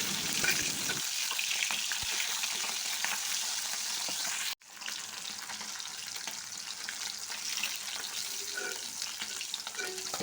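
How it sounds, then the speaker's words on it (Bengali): Marinated hilsa fish pieces fry in hot oil in a wok, giving a loud, steady sizzle that runs nearly throughout, broken by one brief gap when the fish is turned, with no talking. "এখন এটাকে এপিট ওপিট করে খুব ভালোভাবে ভেজে নিতে হবে।"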